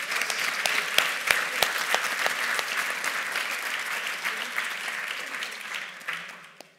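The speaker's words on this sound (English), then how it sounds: "Can we give Michael another round of applause?" An audience at a conference session on African infrastructure gives sustained applause, dense clapping from a crowd that holds steady for several seconds before tapering off.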